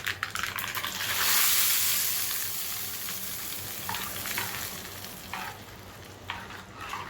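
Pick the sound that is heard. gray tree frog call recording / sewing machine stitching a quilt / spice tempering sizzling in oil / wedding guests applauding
spice tempering sizzling in oil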